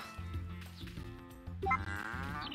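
A cartoonish cow moos in the farming video game Story of Seasons: A Wonderful Life during milking, a clear drawn-out moo over light game music with chimes.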